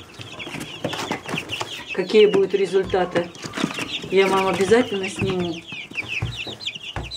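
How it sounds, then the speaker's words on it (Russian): Young Breese Bar and Lohmann Brown chicks clucking and cheeping close by, with repeated bursts of chirps while someone talks over them. "Вот такие замечательные цыпы."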